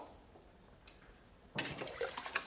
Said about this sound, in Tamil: இதை நல்லா தண்ணி விட்டு கழுவி எடுத்துக்கலாம்